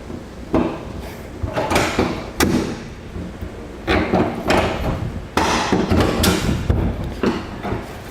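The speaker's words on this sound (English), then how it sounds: "we'll drop down our safety chain loops" Metal safety chain loops on a B&W Companion 5th wheel hitch installed in a 2016 Ram 2500 bed drop down with a series of clanking thuds and rattles, coming in several separate bursts that sound near and moderately loud.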